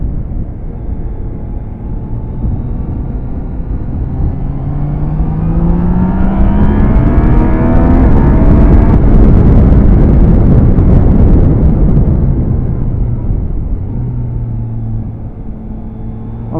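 A Yamaha Niken GT motorcycle ridden past, its engine rising in pitch as it accelerates, swelling to a loud close peak, then fading as it gears down and moves away.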